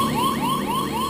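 An Apollo onboard computer's 1202 alarm sounds as a loud, rapid warbling electronic tone, repeating in quick sweeping pulses with no one speaking.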